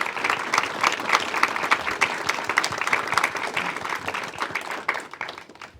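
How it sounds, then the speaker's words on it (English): An audience at a school district board of education meeting applauds teachers, with steady, dense clapping from a sizable crowd that holds strong for several seconds before thinning and fading at the end. "Can we give them a round of applause for their time?"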